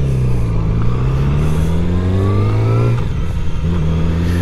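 Yamaha R6 motorcycle with its 599cc inline-four engine, ridden on the road: a loud, steady engine drone whose pitch climbs through the gears, with a shift and renewed pull near the end, no talking.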